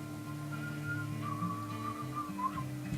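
A man whistles a lilting tune, clear, steady notes sliding up and down in a relaxed melody, heard close and alone without speech.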